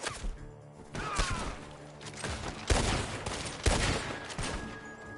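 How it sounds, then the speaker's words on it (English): Gunfire from the video game Red Dead Redemption 2 cracks out as several loud, sharp shots spaced about a second apart over a low, rumbling game background. "The gunshots are coming from that barn!"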